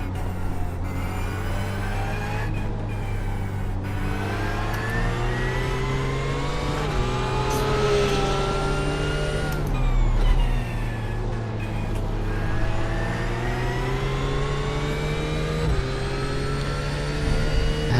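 A GT3 race car engine in the iRacing video game screams loudly and continuously, its pitch climbing through each gear then dropping sharply at the shifts, in repeated rising sweeps heard close up with no talk.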